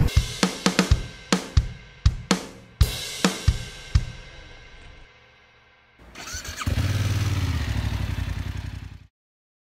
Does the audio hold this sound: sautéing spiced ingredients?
no